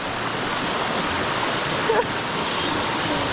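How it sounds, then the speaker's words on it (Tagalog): Strong river current rushing in a steady, dense broadband roar, close and continuous, with a faint brief voice-like sound partway through. "Uy, malakas ang agos, ha?"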